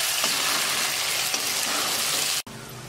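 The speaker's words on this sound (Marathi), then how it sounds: "हे मगज बी आणि काजू छान तळलेत।" Melon seeds and cashews fry in a pan, a steady close sizzle with faint stirring scrapes for under three seconds, cut off abruptly near the end.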